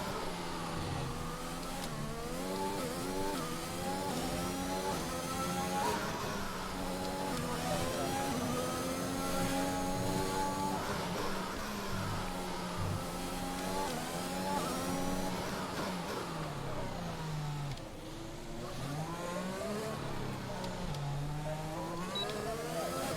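A Formula 1 car in the F1 2021 game runs a Monaco qualifying lap, its engine screaming continuously and rising and falling in pitch through gear changes and corners, loud and close throughout.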